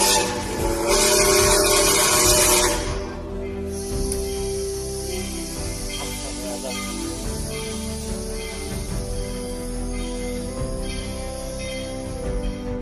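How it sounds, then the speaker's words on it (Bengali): Train bearing down on a car stuck on the tracks, opening with a loud hissing burst and a horn tone, then a sustained rumble of the approaching train that carries on steadily to the end. "কিন্তু শেষ পর্যন্ত ট্রেনটি এসেই পড়ে।"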